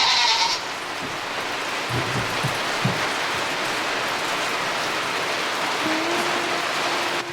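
Steady rain hisses continuously in the background, with an animal bleating briefly over it near the start and a few soft bumps.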